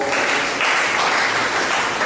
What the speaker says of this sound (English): Burkina community, a round of applause.